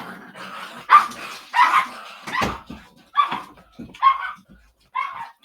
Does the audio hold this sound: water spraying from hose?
no